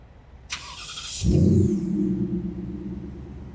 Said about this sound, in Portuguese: eu posso dar partida no veículo também, por aqui. Demora até 30 segundos para que isso aconteça, dá uma olhada.